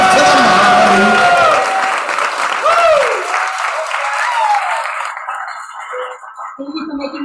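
Loud audience clapping and cheering at a hybrid poetry open mic as a performer walks to the microphone, dense applause with a voice calling over it that fades out toward the end.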